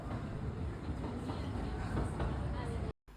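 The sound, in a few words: Zurich city tram running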